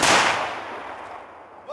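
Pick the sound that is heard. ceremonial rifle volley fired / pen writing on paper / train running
ceremonial rifle volley fired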